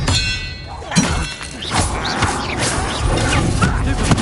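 A spell cast in Hogwarts Legacy, the Expelliarmus disarming charm, bursts through busy game noise as clangs, thuds and crashing magical impacts, several sharp hits spread across a dense, loud mix.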